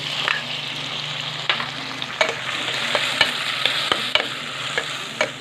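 Chopped tomatoes going into a frying pan of sizzling garlic, a steady crackling fry with sharp scattered clicks and scrapes of stirring throughout, close and fairly loud with no talking.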